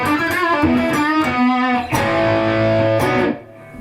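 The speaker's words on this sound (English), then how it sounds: "Obviously, the reverb now, the levels are way too high." Electric guitar played through a NuX Bumblebee pedalboard with the reverb level set far too high, sustained chords and notes ringing with a thick, washy tail, loud and close with no talking.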